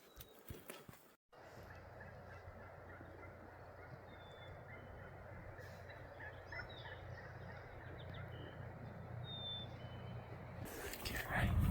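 Wild turkeys in a big group at daybreak during a spring hunt in Washington, gobbling faintly from a distance in scattered calls over a steady outdoor hum, with a brief burst of nearby rustling at the start and end.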